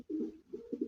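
Pigeons on a breeding farm coo in low, throaty bursts, two or three close calls in quick succession with short gaps between.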